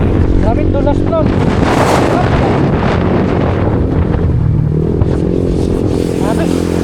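Loud, steady wind roar buffets the microphone throughout a motorcycle ride on a wet, slippery road, with a rider's voice talking over the rushing noise.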